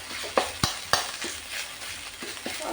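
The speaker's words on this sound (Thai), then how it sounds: "ผัดพริกแกงให้หอมได้ที่ก่อนนะคะ" Red curry paste stir-fried in a pan for a chicken and pickled bamboo shoot dish, a steady close sizzle punctuated by several sharp scrapes of the spatula against the pan, with no voices.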